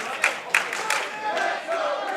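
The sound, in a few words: wrestling crowd cheering for Ricky Starks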